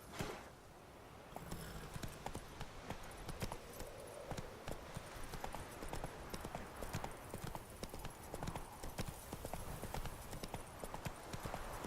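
Roach, the horse in The Witcher 3, gallops along a road with a steady, rapid clip-clop of hooves, close and continuous after a brief quieter start.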